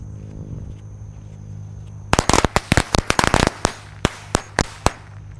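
Corsair matchstick firecrackers go off outdoors with a view of Mount Lawu: a rapid burst of sharp, loud cracks that thins into a few spaced final bangs.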